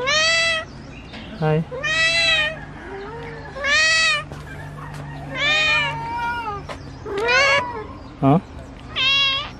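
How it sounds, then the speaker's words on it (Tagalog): Caged cats meow repeatedly and loudly, a series of clear, drawn-out meows spaced a second or so apart, close by, with a person briefly speaking between them. "Ang daming pusa dito ah. Ba't nakakulong yung mga pusa?"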